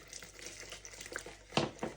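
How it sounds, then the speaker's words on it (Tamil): Water is poured into a wheat flour batter mixed with egg white, giving a faint, continuous wet trickling and sloshing with a couple of louder splashy moments near the end, heard alone. "இதில் கொஞ்சம் தண்ணியும் விட்டு"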